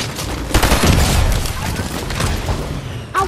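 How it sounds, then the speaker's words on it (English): Rapid gunfire in a video game, a dense run of close booming shots and bursts with players talking over it. "Because I'm shooting somebody."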